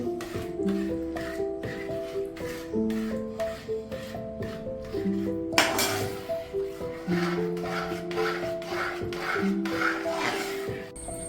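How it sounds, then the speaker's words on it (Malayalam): A spoon scrapes and rubs rhythmically around a pot, mixing cooked green gram dal into jaggery syrup for payasam. Repeated close strokes sound over a tonal background of steady musical notes. "നന്നായിട്ട് ശർക്കരയായിട്ടൊന്ന് മിക്സ് ചെയ്ത് കൊടുക്കുക."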